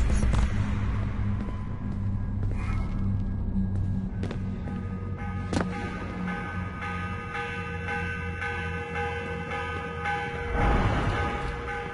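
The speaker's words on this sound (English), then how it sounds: "The morning bell. God, I hated that. Ringing 5 days a week just before dawn." A morning bell rings out in a video game, Assassin's Creed Revelations, against a steady, dense background hum, with sustained tonal lines and occasional sharper strikes, no voices present.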